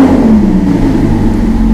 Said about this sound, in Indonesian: Oke, sekarang pertama-tama exhaustnya kita tes dulu ya. Udah berfungsi belum nih Valvetronic exhaustnya?